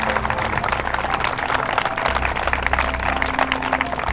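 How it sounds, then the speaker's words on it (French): An audience at an outdoor Relay for Life fundraising event in St-Lin-Laurentides applauds, a dense, even patter of many hands clapping that holds steady for a few seconds at moderate distance. "j'aimerais ça qu'on l'applaudisse encore une fois"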